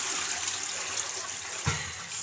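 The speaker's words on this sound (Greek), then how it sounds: "Πρέπει τώρα να πατήσω το καζανάκι." A toilet flushing indoors, heard as a steady broadband rush of water with a brief low gurgle near the end, fairly quiet and alone without talk.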